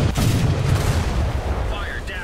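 Naval gunfire from a Royal Navy Tribal-class destroyer in War Thunder, a loud sustained boom and rumble filling the moment, with a faint higher whine toward the end.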